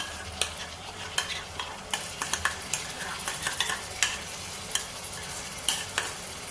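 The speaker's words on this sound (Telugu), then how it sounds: "దోరగా వచ్చే వరకు మనం ఫ్రై చేసుకోవాలి" Sliced onions fry with a coriander powder paste in a pan for a village-style fish onion curry, giving a steady sizzle broken by sharp, irregular clinks and scrapes of a stirring spoon, close and alone.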